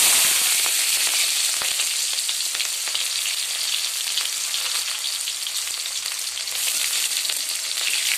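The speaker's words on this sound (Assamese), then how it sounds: "এতিয়া কাটি থোৱা পিয়াজখিনি আমি কেৰাহীত দি দিম।" Steady, loud sizzling of onions frying in hot oil in a wok, with crackling pops throughout and no voices.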